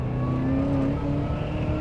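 A Vauxhall Monaro V8, an Australian-built car, driven on the road: a steady deep engine drone with sustained tones that rise slightly as it pulls, close and continuous throughout.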